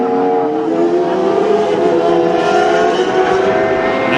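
A race motorcycle at the Isle of Man TT Senior 2019 start holds a loud, steady, close engine drone with a gradually rising pitch as it accelerates away.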